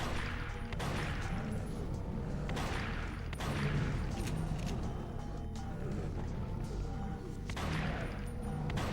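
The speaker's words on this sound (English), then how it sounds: "just keep shooting him" Gunfire in the video game Ghosthunter while shooting an enemy: repeated bursts of shots in clusters roughly every one to two seconds over a dense low rumble of game noise, fairly loud and continuous.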